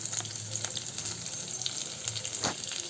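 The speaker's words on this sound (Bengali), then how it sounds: "কিছু মরিচ দিয়ে কিছুক্ষণ ভাজা ভাজা করে উঠিয়ে নেব।" Chillies fry in hot oil with a steady close sizzle and crackle, punctuated by light stirring taps and one sharper pop near the end, with no speech.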